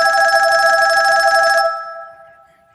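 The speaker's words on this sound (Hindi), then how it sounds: "तो हमारे टेडी रोबोट जी फोन लगाए जाए और इनके महाशय से इनकी बात कराई जाए" A phone ringtone plays loudly and steadily as a call is placed, then cuts off and leaves a fading electronic tone, with no voices.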